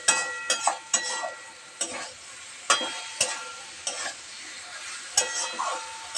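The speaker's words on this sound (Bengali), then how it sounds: "চলো মশলাটা একটু কষা হোক।" Spice masala for matar paneer frying and being stirred in a pan, a steady close sizzle broken by repeated sharp scraping knocks of a spoon against the pan, no talking.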